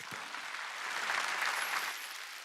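A church congregation applauding during a sermon, a dense, steady wash of many hands clapping that swells slightly in the middle and holds for a few seconds with no voices over it.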